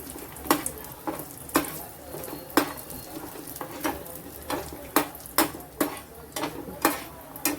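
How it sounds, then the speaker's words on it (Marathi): Fox nuts (makhana) and dry fruits roasting in ghee over a low gas flame, with a steady soft sizzle and a scrape or clink of a spoon against the pan every half second or so, close by. "हे पण छान भाजून घ्यायचे मखाने भाजले तुपामध्ये"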